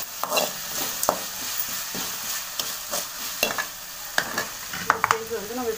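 Vegetables for a vegetarian kurma being sautéed in a pan, with a spoon stirring and scraping against the metal in irregular clinks over a steady close sizzle of oil; no one speaks.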